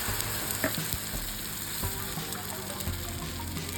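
Pudla batter with white sesame seeds sizzles in a hot pan, a constant close crackling hiss with a few soft clinks from utensils.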